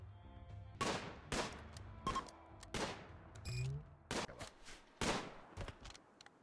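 Sharp gunshots in the video game RimWorld, about eight separate cracks fired in an irregular rhythm, each ringing out briefly into quiet.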